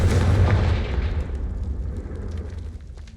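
In the Hogwarts Legacy video game, the Confringo fire spell sets off a deep booming explosion that hits hard at the start, then rumbles and fades over a few seconds.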